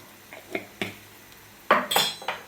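Egg bhurji stirred in a pan with a utensil: a handful of quick, close metallic clinks and scrapes in an uneven rhythm, quiet at first and then a louder cluster near the end, with no voices.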